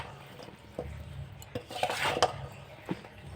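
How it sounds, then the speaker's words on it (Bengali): Homemade pickle being stirred and mixed by hand in a bowl, with scraping, clinking utensil contact against the vessel in a loose, irregular rhythm, peaking midway; no one talks. "এভাবে আমি ভালো করে মিশিয়ে নেব।"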